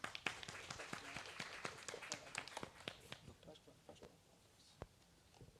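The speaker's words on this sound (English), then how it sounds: "A huge round of applause for him." Scattered clapping from an audience at a thesis and dissertation event on stage, uneven and thinning out, with faint voices in the background.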